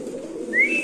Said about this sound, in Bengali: এটা একটা নর কবুতর